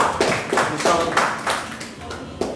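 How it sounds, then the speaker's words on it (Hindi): Scattered audience clapping welcomes a performer at a Republic Day open mic event, a loose burst of hand claps that thins out, with voices murmuring underneath. "जोरदार तालियों से"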